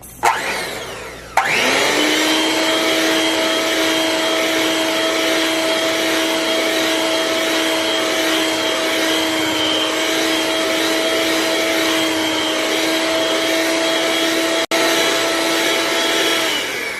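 An electric mixer whirs steadily while beating New York cheesecake batter with added all-purpose white flour; after a brief start it holds a loud, even motor drone for about fifteen seconds with no talking.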